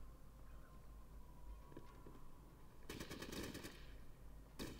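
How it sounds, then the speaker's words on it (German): Enemy gunfire in the turn-based video game Fallout Tactics: a rapid burst of automatic shots, then a second short burst, heard over a low, quiet game ambience. "Die da hinten schießen natürlich wieder direkt auf mich."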